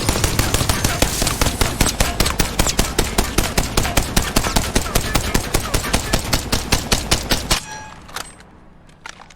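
Rampage light machine gun in Apex Legends firing a long sustained burst of rapid, evenly spaced loud shots for about seven seconds, then stopping, with a few faint scattered pops and game ambience after.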